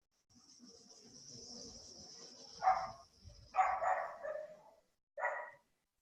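A dog barks several times in short bursts, moderately near, against a quiet background with a steady high insect or cricket chirr running underneath.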